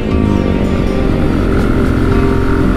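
Steady, loud engine drone from a 1976 Kawasaki KZ400 motorcycle ridden along the winding Tail of the Dragon road, holding a constant pitch with strong low harmonics and wind noise throughout.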